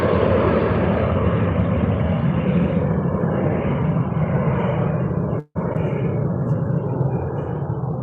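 A jet airliner taking off at Manchester Airport roars loudly and steadily throughout, a broad continuous engine rumble with a brief dropout midway before resuming at the same strength; no talking.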